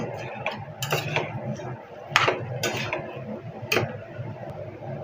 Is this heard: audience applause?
no